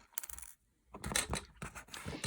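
Sharp clicks of wire cutters nipping beading wire close to a bead while making a Christmas tree earring, a few quick snips and light handling noises, close and quiet.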